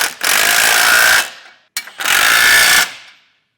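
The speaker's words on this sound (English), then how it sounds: "I will take a 19mm wrench and socket and get this hardware torqued down." Hardware on a Roadmaster direct-connect base plate kit for a 2024 Jeep Wrangler is tightened with a 19mm socket on a power tool, two loud, sustained whirring bursts of about a second each, close up, with a brief pause between.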